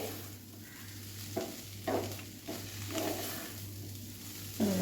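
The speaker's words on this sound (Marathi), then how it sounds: "अशा पद्धतीने हे छान ढवळून ढवळून घ्यायचं आहे" A spoon stirs coconut burfi mixture in a pan over a medium flame, giving soft, repeated scraping strokes with a faint sizzle underneath, fairly quiet and steady with no talking.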